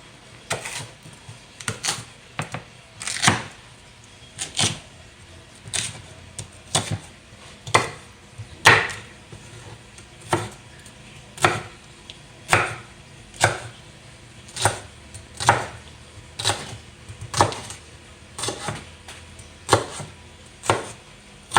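Food being chopped with a knife on a cutting board in a home kitchen while baking, heard as sharp, evenly spaced knocks about once a second, close and crisp, continuing steadily with no talking.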